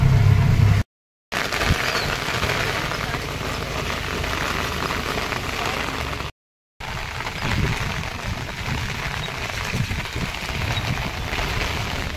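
Heavy rain drums on the roof of a moving auto-rickshaw, a steady wash of noise over a low engine hum, broken by two brief silent gaps.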